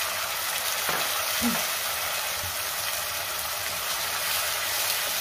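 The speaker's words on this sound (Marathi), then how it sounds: "आता तेल सुटेपर्यंत आपण टोमॅटोची पेस्ट व्यवस्थित परतून घेऊया" Tomato paste made from deseeded tomatoes sizzles steadily in hot oil in a pan for paneer masala, with a continuous broadband fry hiss and a few soft stirring scrapes near the start.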